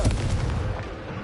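Confringo spell blast in Hogwarts Legacy, a single loud, close booming explosion. A rumbling tail decays over about a second, with no talking.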